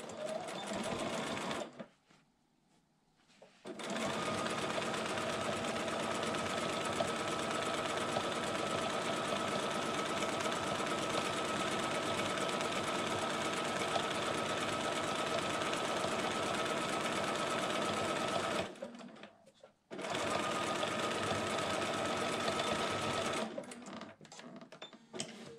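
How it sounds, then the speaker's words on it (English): A sewing machine stitches a seam joining T-shirt quilt pieces, running steadily and close for long stretches with two brief pauses, then starting up again. "I'm just going to line it up right sides together and get it lined up there, get my threads out of the way, and stitch that seam"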